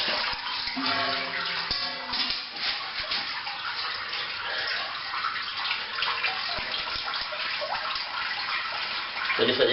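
Liquid pours and splashes steadily as a mesh bag of watermelon is lifted out of a home-brewed Weisse beer wort, a close, continuous watery rush with faint dripping throughout.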